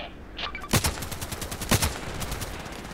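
Gunfire in the Contract Wars video game, a couple of loud close shots followed by a rapid string of smaller automatic cracks over about three seconds.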